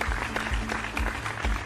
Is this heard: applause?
yes